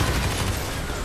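Explosions and heavy gunfire in the game Watch Dogs 2 fill a brief, dense, loud burst of noise with booming lows and crackling bursts throughout.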